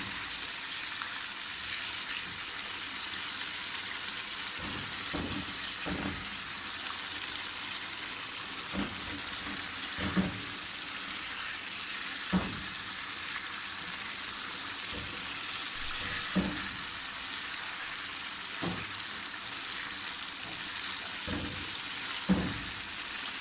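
Chicken karahi frying in a pan gives a steady, soft sizzle, broken by occasional clinks and stirring knocks at irregular intervals.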